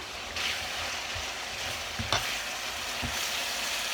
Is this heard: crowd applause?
no